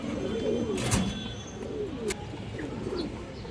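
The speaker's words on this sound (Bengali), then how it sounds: "জোড়া চুইঠাল কালো মুসলদম কবুতর আছে মাশাআল্লাহ" A pair of black Muslodom pigeons coos softly and repeatedly at close range, low murmuring calls over a steady background hum with a couple of brief sharp noises.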